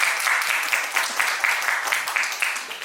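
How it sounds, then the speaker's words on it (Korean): A congregation of teens at a church youth service claps together in dense, steady applause that stays loud and close for the whole stretch, rising and dipping slightly in rhythm. "우리 박수 한번 해줄까요?"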